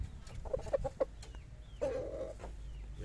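A Pakoy-breed rooster clucks nearby: four short clucks in quick succession, a pause, then a longer drawn-out cluck over low background rumble.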